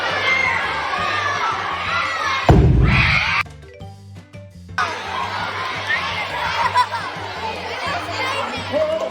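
A hydrogen-filled balloon ignites into a fireball at an elementary school science night, a sudden loud burst followed by a crowd of children cheering and shouting, with chatter before and after a brief quieter moment.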